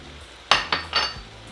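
Browned meat, potatoes, carrots and serrano chile stirred together in a pan, three quick scraping clinks of a utensil against the pan over a low background hum.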